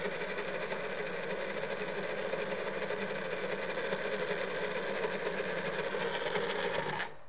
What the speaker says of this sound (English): So with the magic bullet, we get it going, and then we give it a little shake, and then we let it go one more time.